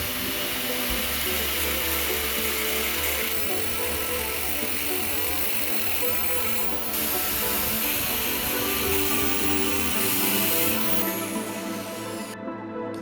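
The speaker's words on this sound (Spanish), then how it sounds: "Debemos cortar el núcleo de los transformadores por estas líneas de soldadura. Para ello, utilizamos una amoladora angular." An angle grinder cuts a transformer core along its weld lines with a loud, continuous high-pitched grinding whine, steady throughout and cutting out abruptly at the end.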